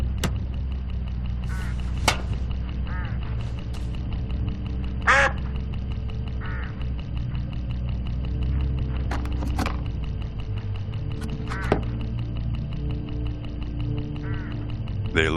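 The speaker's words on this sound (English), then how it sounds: "Look, hooded crows all along this road." Hooded crows calling along a roadside in the Hitchhiker mystery game, several harsh caws scattered over a steady ambient drone, some near and some farther off, with no talk.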